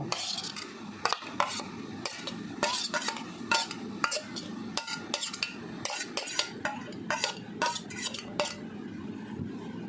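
A spice paste of dried chillies, cardamom, cloves and cinnamon is mixed into prawns, heard as rapid clinks and scrapes of a spoon against a metal bowl with soft wet squelching, close and irregular.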